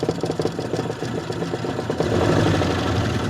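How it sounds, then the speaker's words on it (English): An old two-stroke Mercury outboard boat motor runs steadily at a remote fishing lodge, a buzzing, rattly putter with a fast regular pulse, close and moderately loud, rising slightly toward the end. "Sounds like an old 2-stroke Merc."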